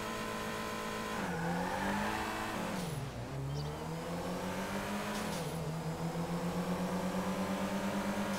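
An upgraded car in GTA Online accelerates hard, engine revving up through several gear changes with rising pitch sweeps and short drops between shifts, loud and close, with a brief tire screech partway through.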